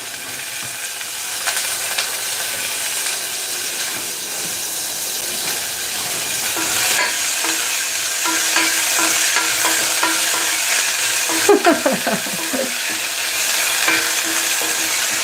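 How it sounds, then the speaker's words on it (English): Sesame seeds sizzle and spit in hot oil alongside frying onions for a spicy vegan savoury oats dish, a steady close frying hiss with bursts of crackle and stirring, and no talking. "you don't want to be adding sesame seeds to hot oil"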